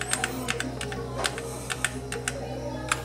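Typing on a Motospeed CK74 computer keyboard gives sharp, irregular key clicks, a dozen or so over a few seconds, close and distinct above a low steady background hum.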